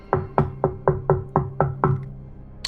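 Seven evenly spaced knocks on a door, each a crisp, close rap with a short booming ring, followed by a faint higher sound at the end.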